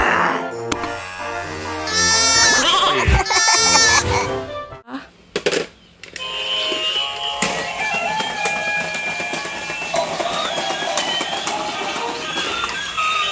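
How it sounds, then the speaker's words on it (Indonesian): Sheep bleating inside the Spider-Man: Into The Spider-Verse video game, with a couple of loud close bleats early on, then busier game sounds and music afterwards. "Wow, lihat teman, di sini ada seekor domba."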